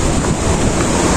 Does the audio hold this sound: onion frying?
no